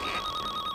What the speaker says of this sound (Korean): 전화벨이 울리고 있었습니다